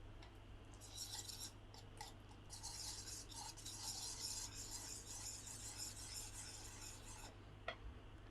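Butter and ghee being stirred together in a bowl for butter cookie dough, with soft, continuous scraping and rubbing of a utensil against the bowl over a steady background hum.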